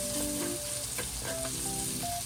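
Garlic sautéing in a pan crackles with a dense, close sizzle and a few light stirring scrapes, steady throughout with no talk.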